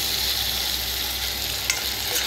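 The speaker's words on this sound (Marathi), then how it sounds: "आता मिक्स करून घेऊया, चांगली परतून घेऊया." Ginger garlic paste frying with onions in a hot pan: a steady, loud hissing sizzle with one brief scrape from stirring, and no talk.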